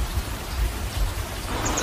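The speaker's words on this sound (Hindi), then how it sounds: "इससे पहले कि बारिश बहुत तेज हो जाए" Heavy rain pours steadily in a jungle cartoon scene, a dense continuous hiss with low rumbling underneath, loud and unbroken throughout.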